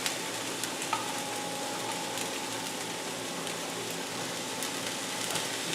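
Raw bean sprouts fry in a pan of chicken fried rice, a steady, dense sizzle with occasional crackles and light stirring ticks, close and continuous with no voice.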